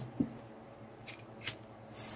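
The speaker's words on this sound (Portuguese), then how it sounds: "Cortar aqui." Scissors cut ribbon with a few short, quiet snips spread across a brief, hushed moment, and no one speaks.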